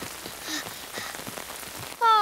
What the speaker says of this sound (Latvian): Līst lietus.